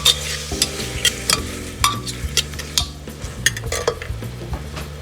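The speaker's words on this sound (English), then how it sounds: "Stir it for a while." Tomato and spices are stirred in a frying pan, with repeated spoon scrapes and taps against the metal over a constant sizzle and a low hum.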